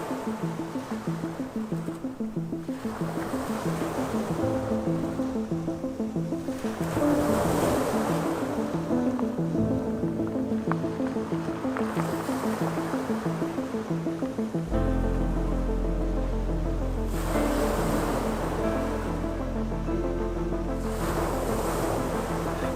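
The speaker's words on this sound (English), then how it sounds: "The sun dances on the waves. Waves play with the rocks." Ocean waves wash over volcanic rocks on the island of Lanzarote, rising in slow, repeated surges. Background music plays throughout, and no voices are heard.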